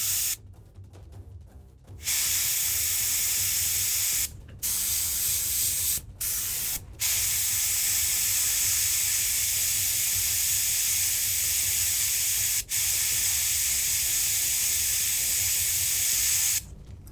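Airbrush spraying paint up close onto the face of a Kayvaan Shrike miniature, at a pressure of about 30: a loud, steady hiss in long bursts with a few brief breaks, and no voices.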